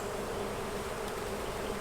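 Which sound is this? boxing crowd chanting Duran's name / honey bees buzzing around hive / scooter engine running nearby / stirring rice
honey bees buzzing around hive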